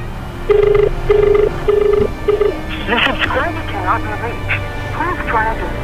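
A phone call rings out unanswered: four short repeated ringback tones in a steady rhythm, followed by a person talking over a quieter background hum.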